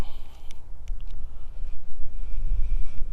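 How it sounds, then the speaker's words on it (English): Strong gusts of wind buffet the microphone with deep, rumbling roars that rise and fall, broken by a few light clicks. "Super windy out here, so I got my good mic on."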